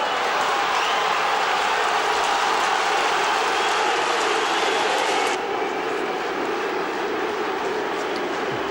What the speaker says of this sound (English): It's the red and whites who are cheering.